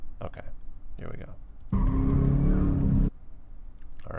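Car engine revving hard through an SCCA autocross run, heard from inside the car, with a loud sustained acceleration burst between shorter throttle blips and a driver's voice in between.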